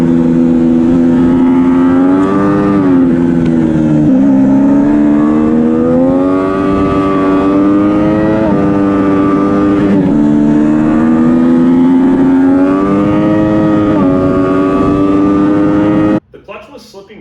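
A Triumph Daytona 675R race bike engine pulls hard through the gears, loud and close, with rising revs broken by shifts over about sixteen seconds before cutting off abruptly; a slipping clutch is the stated fault.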